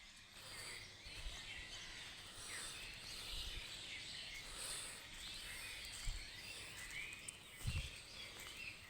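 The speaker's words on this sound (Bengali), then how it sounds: "পাখিদের কিচিবিচি শব্দ আসলে সকাল সকাল একটু ভালো লাগে।" Birds chirp in trees on an early morning near a cemetery gate, a steady high twittering chorus at moderate distance with a few louder low thumps and rustles.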